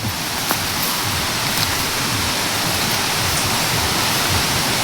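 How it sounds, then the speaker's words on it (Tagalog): A stream flows a short way ahead, a steady, loud rushing of water with no voices over it. "Ito yung sapa sa unahan."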